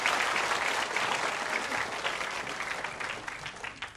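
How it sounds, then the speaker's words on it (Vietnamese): An audience at a comedy skit claps in a dense, lively burst that holds strong before gradually thinning and tapering off toward the end, with no talk over it. "Xin một tràng vỗ tay thật lớn"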